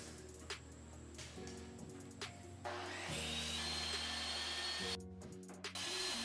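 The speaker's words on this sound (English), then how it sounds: "We're going to cut up our 2x8s, and we're going to build this collar." A power saw cuts 2x8 wooden boards for a freezer collar build, the steady motor whine rising as the blade bites into the wood, with brief pauses and restarts between cuts.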